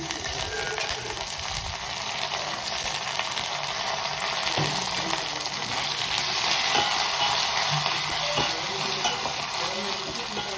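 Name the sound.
curry leaves sizzling in oil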